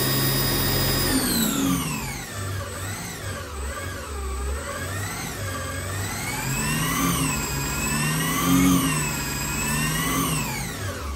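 A remote-control Formula One replica car revs with the throttle set to maximum delay, giving a loud, continuous high-pitched engine whine that swoops up and down in pitch over several seconds, with no voices.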